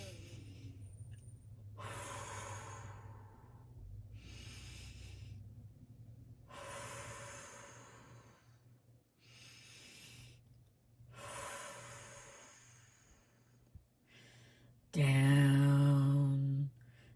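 Several slow, deep breaths in and out, close and soft, spaced a couple of seconds apart during a guided relaxation exercise, with one louder, forceful exhale near the end.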